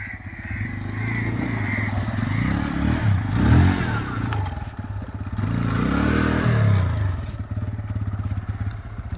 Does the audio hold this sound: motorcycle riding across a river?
yes